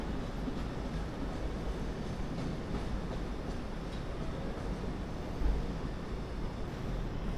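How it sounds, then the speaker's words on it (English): A long train rumbles past in a steady, broad roar with faint rhythmic clatter, continuous throughout at moderate distance. "wow, there's a freight train going by."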